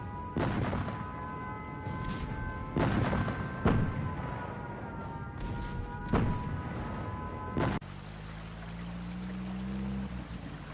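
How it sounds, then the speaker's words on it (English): Bombs falling nearby: several sharp, heavy booms spaced a second or two apart over a rushing, roaring background, followed by a lower droning hum. "The bombs don't fall too far from here."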